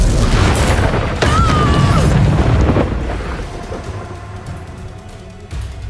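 Confringo blasting spell in the Hogwarts Legacy video game, a loud booming explosion with a crackling burst and a ringing tail that fades over several seconds, followed by rumbling game noise.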